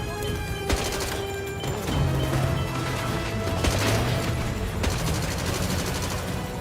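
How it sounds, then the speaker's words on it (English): Missile fire and explosions in the video game 007 First Light, dense rapid bursts and crashing blasts layered continuously, with a voice speaking underneath. "press square to shoot the missiles"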